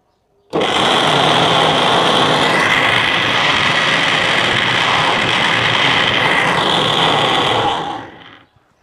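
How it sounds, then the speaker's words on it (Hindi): An electric blender making mayonnaise starts suddenly and whirs loudly and steadily at high speed for several seconds, its pitch shifting slightly before it winds down and stops. "ब्लेंडर को चला देंगे"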